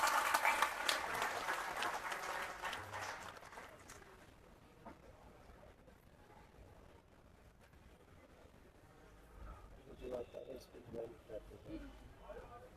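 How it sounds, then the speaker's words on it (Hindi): An audience at a political gathering claps to welcome Pramila Sen, the AAP vice president for the Gonda assembly constituency, onto the stage. The applause is loud and dense for a few seconds, then fades into quieter crowd murmur. "प्रमिला जी का ताली बजा के स्वागत कर दीजिए आप जोरदार।"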